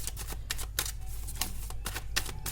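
Tarot cards being shuffled by hand, a quick run of soft, crisp riffling flicks in irregular bursts, close and fairly quiet.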